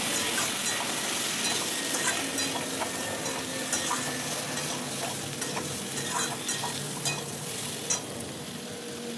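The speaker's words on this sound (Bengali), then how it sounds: "এবার দিয়ে দেবো আদা কাঁচা লঙ্কা বাটা আর দিচ্ছি হলুদ গুঁড়ো পরিমাণ মতো জিরের গুঁড়ো লবণ দিয়ে এটাকে একটু কষিয়ে নেব" A ginger and green chili paste with turmeric, cumin powder and salt sautés in a pan for a fish curry with potato and eggplant, a steady loud sizzle under repeated stirring and scraping strokes, no voices.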